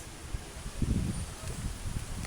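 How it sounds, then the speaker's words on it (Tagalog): Gusts of wind rushing through the foliage of a mango tree, leaves rustling in surges that swell and fade, fairly faint and with no one talking. "Yan na, ang hangin, ang lakas."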